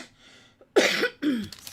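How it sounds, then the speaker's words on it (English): A single person coughs or clears the throat at close range during a paper-crafting session making holiday tags with stamps, two short harsh bursts after a quiet pause. "Excuse the cough."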